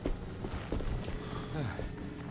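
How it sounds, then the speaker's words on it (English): Horse hooves clip-clopping in the distance in the 2024 Alone in the Dark game, a few soft, uneven steps over a low ambient rumble of game sound. "Why is there a horse in the distance?"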